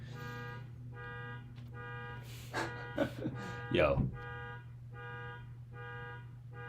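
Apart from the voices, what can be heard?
car horns honking in city traffic outside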